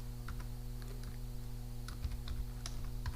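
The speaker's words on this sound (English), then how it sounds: "we just manually type delete, delete" Quiet computer keyboard typing, a few sparse, light keystrokes over a steady low electrical hum.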